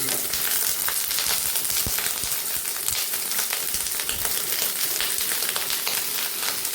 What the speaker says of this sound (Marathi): तेल व्यवस्थित झालं की आता याच्यामध्ये आपण हे कट केलेले टेंडोळे टाकून